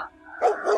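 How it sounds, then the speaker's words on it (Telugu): A dog gives a short, sharp bark followed by a whimpering yip, close by and fairly loud, with no one talking. "ఆ అరుపు కారణం మొబియా పెంచుకుంటున్న జిమ్మీ అనే కుక్క."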